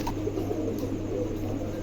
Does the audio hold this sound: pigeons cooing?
yes